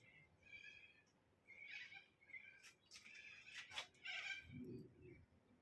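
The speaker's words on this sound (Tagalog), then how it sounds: "Ibon, bird." Small bird calls near a house in Australia: a series of short, bright chirps and trills coming in quick bursts, fairly close and clear over quiet background, with a low rustle near the end.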